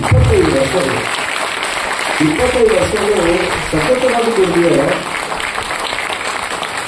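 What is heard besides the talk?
audience applause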